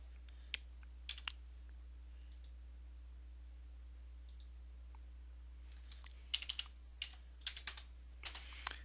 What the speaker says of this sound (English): And I always type in the measurement just to be on the safe side.